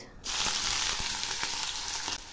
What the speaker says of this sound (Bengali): এবার আমি জিরে ফোড়ন দিলাম, আর সেই সঙ্গে দিচ্ছি কুচি করে নেওয়া 2টো পেঁয়াজ।